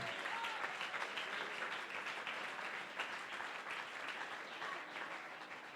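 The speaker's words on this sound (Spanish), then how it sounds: "Los que somos libres, aplaudimos el nombre de Jesús." A church congregation breaks into sustained applause, a thick, even roar of many hands clapping that keeps the same loudness throughout with no talking on top.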